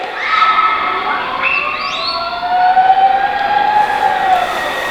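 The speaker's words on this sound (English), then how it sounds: "Sound almost like a police siren." A siren-like wail from a Halloween spooky-sounds vinyl record sweeps up and down in loud, wavering tones over a steady background hiss, continuing throughout with no talking.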